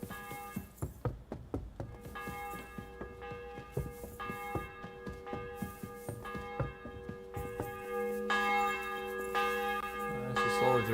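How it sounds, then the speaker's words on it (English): Church bells in the medieval game Kingdom Come: Deliverance ring out loud and close as a village chapel tolls, with repeated overlapping strikes that build into a dense, sustained peal. "The bells are ringing."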